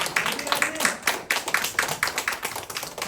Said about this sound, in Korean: 우리 주님 인사할 때 함께 박수하겠습니다.